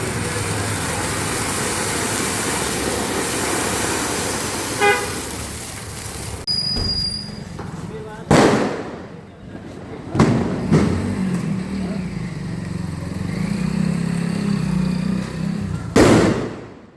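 Diwali paper bomb firecrackers go off in a few sharp, loud bangs spaced several seconds apart, over a continuous noisy outdoor background with horn-like toots.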